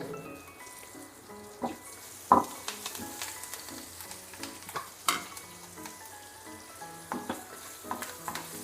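Curry leaves crackling in hot oil for a tempering, a quiet sizzle punctuated by scattered sharp pops and spits, one louder burst early on, with no voices.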